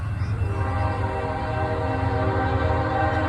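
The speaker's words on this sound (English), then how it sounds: "Train's coming." A BNSF stack freight train approaches a road crossing at Lacey Blvd in Hanford, California, its horn holding loud steady blasts over a continuous low rumble of the locomotive and rolling cars.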